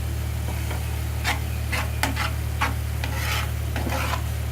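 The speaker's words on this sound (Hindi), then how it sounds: "और फिर इसके अंदर हम काली मिर्च डाल देंगे और इसको अच्छी तरह से मिक्स करेंगे।" A spoon scraping and stirring pizza sauce with black pepper in a pan, making soft repeated rubbing strokes close up over a steady low hum, with no talking.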